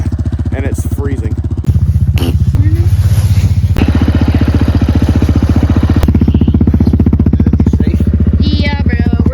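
An ATV engine throbs loudly and steadily at close range while riding through snow during a snowstorm, its pitch shifting slightly with throttle, with a voice speaking over it.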